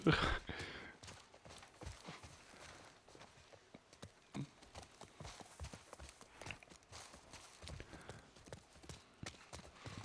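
A horse's hooves clip-clop steadily at walking pace in The Last of Us Part 1, an even train of close, fairly soft knocks with a brief louder burst at the start.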